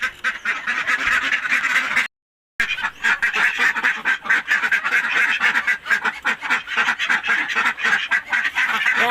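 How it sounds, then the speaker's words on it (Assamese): A flock of domestic ducks quacks loudly and nearly nonstop at close range, overlapping calls in a rapid, busy rhythm, broken by one short silent gap. "তো আজি হাঁহে কেইটা কণী পাৰিছে চাওঁ"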